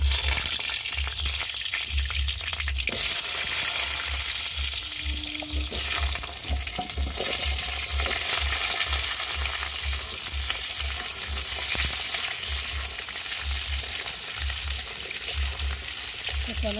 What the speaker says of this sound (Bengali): আর এখন চিকেনের আলুগুলো ভালো করে ভেজে নেব।